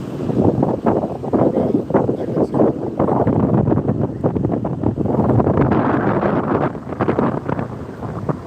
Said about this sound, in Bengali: আমরা ভালো থাকবো এই সমুদ্র সৈকতের যে মৃদু বাতাস